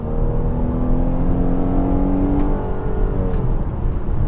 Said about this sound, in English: I'm just gonna give it just a little tiny bit of torque, up to about 1100 RPM, and go